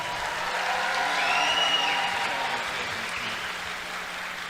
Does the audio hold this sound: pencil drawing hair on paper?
no